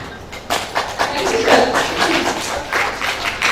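An audience at an awards ceremony claps in a steady, dense patter that rises after a brief quieter start and holds fairly loud through the rest, with faint voices mixed in.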